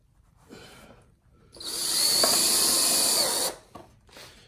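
A power drill drives screws to fasten metal flashing onto a wooden Layens beehive, a steady loud whine lasting about two seconds, bracketed by quieter handling noises before and after.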